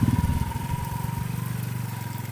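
A motorcycle on a ride home in Mindoro, its engine putting steadily at a fast, even pulse, close and continuous without talk.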